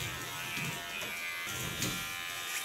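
An electric hair clipper buzzes steadily while shaving the nape of the neck on slightly damp skin and hair, a close, continuous whirr with small shifts in tone as the blades move.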